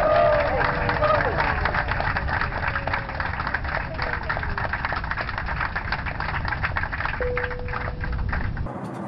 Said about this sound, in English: until the wheels went up and the crowd went wild.